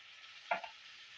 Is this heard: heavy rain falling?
no